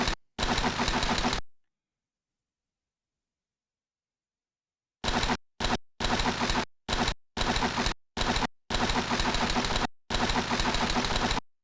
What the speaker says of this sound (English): There's our motorcycle.